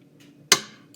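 A single sharp egg crack on a bowl or mixer rim while making oatmeal raisin cookies, one close, crisp broadband snap standing alone over a quiet background hum.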